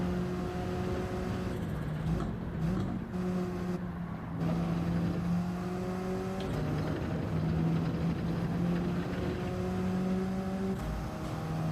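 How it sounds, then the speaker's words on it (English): Race car engines in the video game Gran Turismo 7, a steady droning whine with shifting tones held throughout, heard alongside other cars nearby during a race, with no talking. "The cars sound really shitty when you're beside them."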